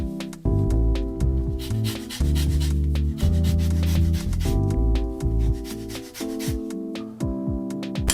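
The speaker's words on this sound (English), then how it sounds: "The zest of a lemon." A lemon is zested for a sandwich, with close, rhythmic scraping strokes repeated steadily across the whole stretch.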